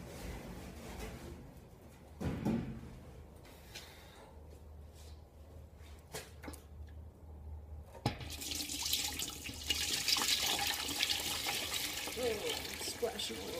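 Concentrated maple sap pours and splashes from a pan during syrup making, with liquid trickling and splashing in bursts, the flow growing heavier and louder toward the end.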